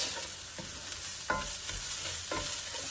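Rice and onion fry in a single pan for a sausage and rice dish, a steady close sizzle broken by a few scraping stir strokes, with no voices.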